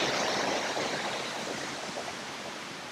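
Steady rushing water at Balagbag Falls, a broad, even wash of flowing and splashing water that holds loud and continuous for the whole stretch, easing only slightly toward the end, with no voices.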